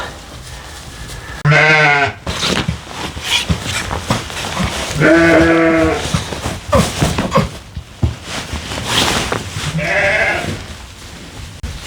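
Sheep bleating loudly nearby, three drawn-out calls spread over several seconds, with shuffling and rustling in between.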